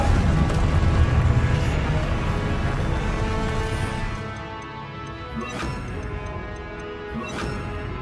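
Fiery blast spell cast in Hogwarts Legacy, a loud, dense crashing burst that tails off midway, followed by a couple of sharper impact hits over a lingering rumble.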